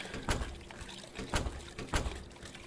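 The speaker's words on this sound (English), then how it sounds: "Yikes, the water. Is the faucet busted?" Water splashes from a busted faucet in a horror video game's apartment, three faint, regularly spaced gushing bursts over a quiet background.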